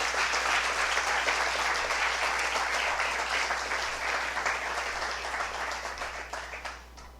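A church congregation at a sermon breaks into sustained, dense applause that stays loud and even throughout before easing slightly at the end, with a low steady hum underneath.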